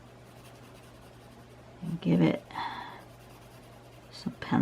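A pencil shades across paper while a drawing is being coloured in, heard as short scratchy strokes in two bursts. A person speaks briefly between the strokes.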